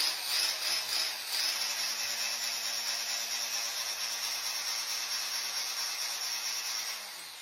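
A Hoof Boss hoof trimming tool runs beside a goat, giving a continuous, faint, high-pitched electric whir and buzz that holds steady and fades slightly at the end, with no talking.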